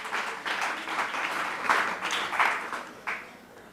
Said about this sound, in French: on applaudit Zénaba une fois encore